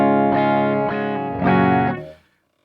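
Clean electric guitar through a NAM amplifier model, a few ringing chords struck roughly every half second, close and fairly loud, the last chord held and fading out.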